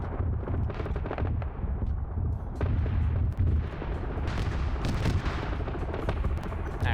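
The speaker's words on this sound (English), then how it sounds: "Stray fire from one of the autocannons probably clipped him." Autocannons in a video game battle fire in rapid bursts of heavy booming shots, dense and continuous, with overlapping blasts and explosions throughout.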